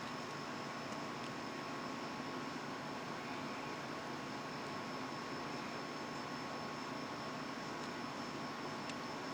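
Steady broadband engine drone of a seaplane touching down at a water airport in a flight video game, constant and fairly faint throughout with no talking.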